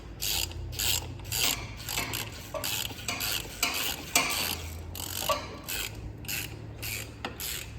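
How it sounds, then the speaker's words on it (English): A ratchet wrench backs out the last bolt on the exhaust manifold of a Freightliner cabover truck, giving steady rapid clicking in repeated bursts, close and fairly loud, with no talk over it. "last bolt coming off the manifold."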